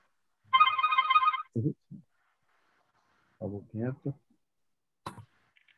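An incoming phone call sets off a loud, bright ringtone that chimes for about a second, followed by a cough, throat clearing and brief vocal noises, then a single sharp click.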